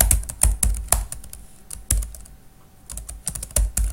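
Code typed on a computer keyboard in the Excel Visual Basic editor, sharp key clicks in quick uneven bursts with a short pause midway, close and clear with no talking.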